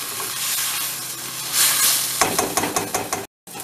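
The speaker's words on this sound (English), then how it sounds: "you're gonna wanna cook the tomato sauce, get the raw flavor out of it" Tomato sauce cooking in a pan over a medium-high flame, for Spanish rice, gives a steady broadband sizzle that swells, then breaks into several scraping stir strokes, with a brief dropout near the end.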